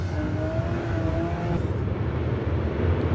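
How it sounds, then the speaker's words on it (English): Crate racing cars and street stock cars roar along a dirt oval in a feature race, their engines droning loudly and steadily as the pack throttles up and passes. No voices are heard. "Here come your lead pack of cars off of 4 down the front side."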